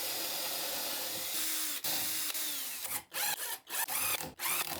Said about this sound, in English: I'll just put those together quickly with some screws.